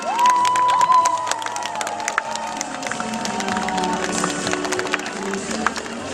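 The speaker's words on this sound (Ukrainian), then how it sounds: "оплесками привітаємо їх в наших рядах" Children cheering and clapping at a school Euroclub festival in Dnipropetrovsk: a high shout rises at the start over dense applause, then lively clapping and crowd noise continue, with voices calling out and sharp claps standing out.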